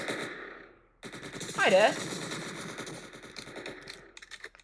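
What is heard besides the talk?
gunfire in the video game Entry Point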